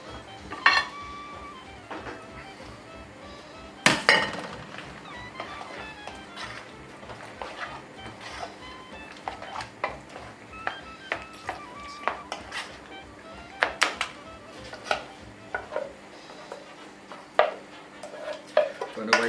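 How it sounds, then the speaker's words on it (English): Macaroni cheese stirred with a wooden spoon in a kitchen, steady scraping and sloshing with scattered knocks and clinks against the pot and dishes, fairly close and unhurried, without clear talk. "Mix it up."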